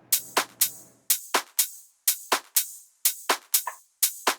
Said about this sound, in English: my main drums, which are my offbeat hat and my main clap